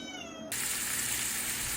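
A cat lets out a brief meow, then a frying pan of chicken curry bursts into loud, steady sizzling that fills the rest of the moment.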